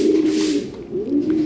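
Racing pigeons cooing up close, a loud, steady low throaty coo rolling in two long swells with no talking.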